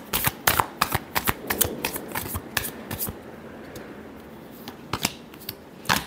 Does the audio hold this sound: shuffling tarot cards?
yes